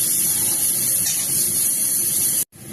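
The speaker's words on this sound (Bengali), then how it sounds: "জল দিয়ে দেবো।" Water poured into a pan of fish and potato curry, a steady loud hissing rush like a spray that runs unbroken for over two seconds, then cuts off abruptly.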